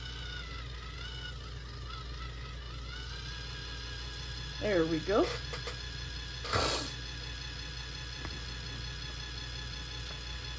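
A Resiners dual-head resin mixer runs on high, a steady mechanical hum and whir with a faint tonal whine held throughout, while a person briefly speaks partway through and a short clatter follows.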